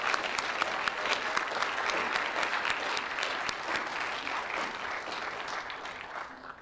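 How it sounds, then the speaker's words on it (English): University lecture-hall audience applauding for the chairman, dense sustained clapping from a large crowd that holds steady and then tapers slightly toward the end. "She really deserves a huge round of applause"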